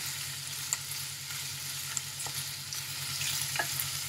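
Liver and plenty of onion sautéing over medium heat in a pan, a steady sizzle broken by a few sharp clicks of a utensil stirring, with a low hum underneath and no talking.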